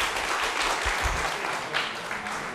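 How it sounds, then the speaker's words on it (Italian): An audience applauds loudly, a dense, steady wash of clapping with no talking over it. "Applauso pubblico per Fabrizio."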